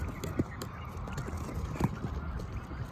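Live quail call from inside a shipping box, short honking cries popping up a few times over a steady low background rumble.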